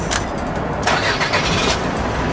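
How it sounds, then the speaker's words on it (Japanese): A car-carrier truck's diesel engine cranks and catches, settling into a rough, steady rumble; no voices. "エンジンをかけます。"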